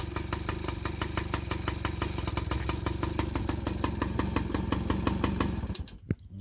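A warmed-up 1983 Yamaha PW50 with a big bore engine idles close by in a rapid, even two-stroke putter, then cuts out abruptly just before the end.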